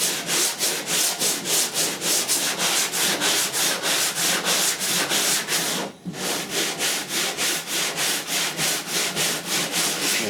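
Body filler on a car panel is sanded in a crisscross pattern to feather the edges, giving rapid, even back-and-forth rasping strokes, close and loud, with one brief pause midway.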